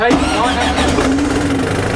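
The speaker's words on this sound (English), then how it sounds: "When it burst into life, it's like, that's an engine and that's in my bus." A bus engine bursts into life and settles into a loud, steady running note, with a voice talking over it throughout.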